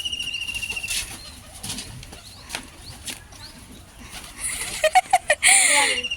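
Pigeons at a family birthday gathering coo softly, then a brief flurry of flapping wings bursts out near the end, close and fairly loud over quiet background murmur.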